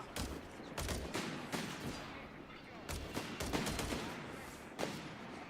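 Rapid bursts of machine gun fire and scattered rifle shots in a Company of Heroes 3 tournament match, sharp repeated cracks in clusters with short pauses, fairly loud throughout.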